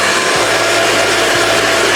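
A hair dryer blows steadily and loudly throughout during a straight-dryer hairstyling session, a continuous broadband whoosh with a low motor hum and no talking.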